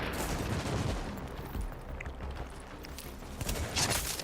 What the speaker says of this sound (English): That was a dirty headshot